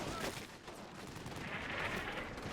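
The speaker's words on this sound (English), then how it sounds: "In the woods, you can hear a mortar strike." A mortar strike lands in the woods in the war game Combat Mission: Battle for Normandy, a dense, rumbling wash of blast noise that fills the short stretch at steady volume, with no talking.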